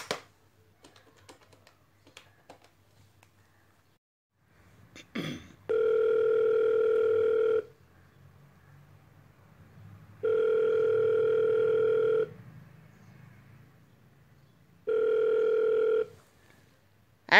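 An outgoing phone call rings out as an audio-story effect: faint key taps, then three long, loud, steady ringback tones separated by pauses of quiet.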